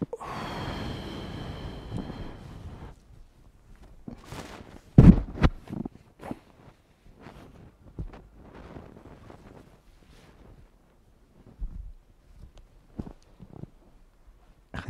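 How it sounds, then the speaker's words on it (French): A deep breath taken while lying still with eyes closed during a guided relaxation exercise: one long, airy exhale of about three seconds, followed by soft clicks and quiet rustles. "Alors, une respiration."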